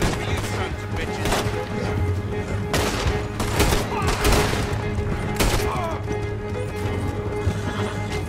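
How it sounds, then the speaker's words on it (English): Gunfire in Red Dead Redemption 2 during a shootout with riders on a property: steady, dense volleys of shots under continuous hoofbeats and game noise. "That was some good shooting, Morgan."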